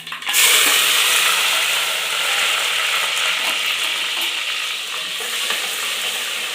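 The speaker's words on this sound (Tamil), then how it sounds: "கருவேப்பிலை தழை போட்டு தாளிச்சுக்கலாங்க." Curry leaves, onion and tomato dropped into hot tempering oil burst into a loud sizzle that settles into a steady crackling fry, with light stirring and no voices.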